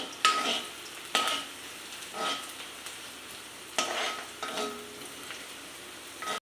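Onions fry in a pan, a soft steady sizzle punctuated by several distinct stirring clatters spaced through the clip, fairly quiet and close with no talking.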